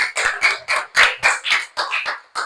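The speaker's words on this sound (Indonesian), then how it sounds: "berikan tepuk tangan" Steady rhythmic hand clapping in a grade four Christian religion class, about ten sharp, evenly spaced claps, loud and close with no talking.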